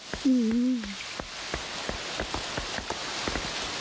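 Heavy rain pours steadily, with distinct drops tapping on a surface, and a brief voice-like tone near the start.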